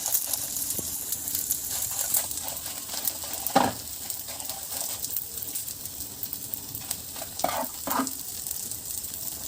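Dried chilies fry in oil in a pan while cooking Mangalore-style mutton sukka, giving a steady, close sizzling hiss broken by a few soft stirring scrapes and clicks.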